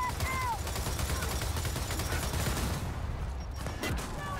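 Gunfire in Gears of War 4 co-op combat, a continuous rattle of fast shots mixed with game ambience that thins out near the end.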